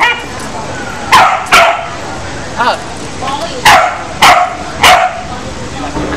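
A dog barks repeatedly nearby, about six sharp loud barks in an uneven rhythm with a softer yip between them, over a steady background hiss.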